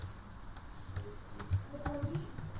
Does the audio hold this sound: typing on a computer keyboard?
yes